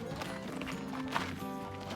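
Mules or donkeys at the Grand Canyon clip-clop as they walk, their hooves tapping in quick succession amid outdoor ambience, with a faint voice nearby.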